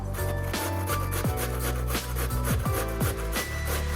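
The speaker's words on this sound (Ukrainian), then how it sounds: "натираємо в неї одну морковину, а після моркви натираємо дві картоплини." A carrot and potatoes are grated by hand on a kitchen grater, giving continuous close rasping strokes in a steady back-and-forth rhythm, loud and alone, with a musical bed running underneath.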